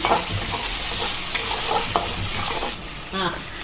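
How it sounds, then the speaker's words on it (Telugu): Tomato sizzles and fries in a pan with salt for a mutton head curry with tamarind leaves, with steady broadband crackle and a few stirring scrapes, close and fairly loud, quieting briefly near the end. "ఇప్పుడు టమాటా పచ్చివాసన పోయే వరకు వేపి తర్వాత పసుపు వేసుకుందామండి మనము"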